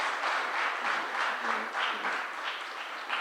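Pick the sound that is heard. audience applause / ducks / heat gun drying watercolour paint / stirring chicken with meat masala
audience applause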